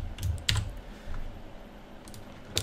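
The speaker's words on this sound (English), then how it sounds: "So we're just going to type something in" Fingers tapping a computer keyboard in a few quick, light clicks, with short bursts of keystrokes separated by pauses against a faint background hum.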